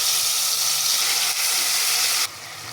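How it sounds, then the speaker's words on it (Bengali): Onion paste and a little ginger paste frying in hot oil in a wok give a steady, close, broadband sizzle and hiss that runs unbroken, then drops to a quieter sizzle near the end. "এবার আম্মু দিয়ে দিচ্ছে 1 চামচ পেঁয়াজ পেস্ট এবং সামান্য একটু আদা পেস্ট।"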